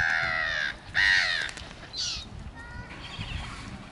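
Several short, sharp jackdaw calls ring out in quick succession, fairly close, with brief pauses between them over faint outdoor background.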